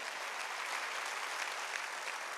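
A church congregation at a Wednesday worship service claps together in dense, steady applause that holds at an even level throughout, with no single clap standing out.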